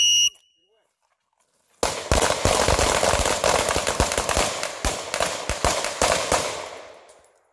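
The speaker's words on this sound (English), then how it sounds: "I'll shoot low right on this one." A loud gunshot fired into a ballistic gel block, a sharp single blast followed by a burst of rapid reports and crackling, echoing outdoors at a shooting range.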